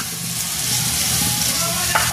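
Beetroot and green banana slices frying in a pan, giving a steady, close sizzle with light crackle and a couple of soft utensil clinks near the end.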